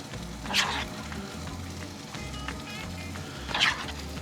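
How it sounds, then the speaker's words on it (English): Spoonfuls of batter mixture dropped into hot frying oil outdoors by a lake, a steady close sizzle with two brighter bursts as each spoonful goes in. "Just gonna spoon that mixture right in there."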